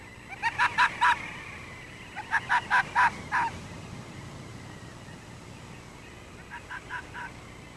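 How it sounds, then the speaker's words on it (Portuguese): Snow geese honk in tight bursts on the Arctic tundra, two loud clusters of overlapping calls followed by a fainter group, with a steady wind-like hiss beneath. "Os gansos da neve conseguiram com dificuldade encontrar uma pequena área sem gelo"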